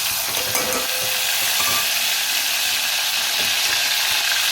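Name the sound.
onion, tomato, green chilli, garlic and ginger sizzling in pan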